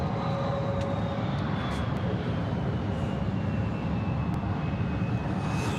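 A jet airliner on approach to Atlanta Hartsfield-Jackson airport roars steadily as a constant, loud engine wash with a faint high whine drifting across, alone without talk.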